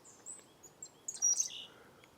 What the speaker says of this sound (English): I hear a bird. Ooh, chickadees.